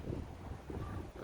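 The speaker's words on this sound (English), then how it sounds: "Is this it? Is the wind gonna" Wind buffeting a microphone outdoors, a steady low rumbling gust noise that fills the whole short stretch with no voices.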